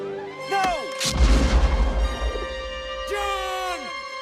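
A deep cannon blast booms and rumbles out in an animated film dubbed in Portuguese, with voices and cartoon-like sound effects around it, plus a brief whooshing sweep before and after.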